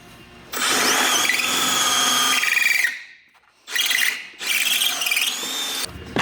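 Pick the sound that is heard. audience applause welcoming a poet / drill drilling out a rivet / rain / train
drill drilling out a rivet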